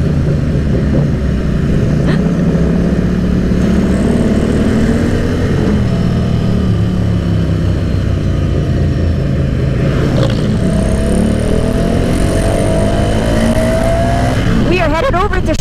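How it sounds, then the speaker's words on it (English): A Yamaha MT-07 fitted with an Orion exhaust on a group ride to a motorcycle meet, giving a steady, close engine drone mixed with wind rush that swells and shifts in pitch throughout. "Got like an Orion exhaust on his MT-07."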